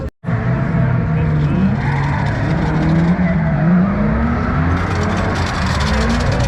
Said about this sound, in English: That's drifting.